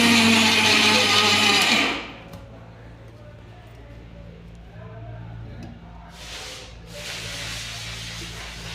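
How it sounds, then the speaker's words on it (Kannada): An electric mixer grinder whirs loud and steady while grinding peanut chutney with chilies, then cuts off abruptly after two seconds, leaving a quieter kitchen with a faint hum; a brief second burst of grinding follows near the end. "ಇದನ್ನ ಮಿಕ್ಸಿ ಹಾಕ್ಕೊಂಡು ಬರೋಣಂತ"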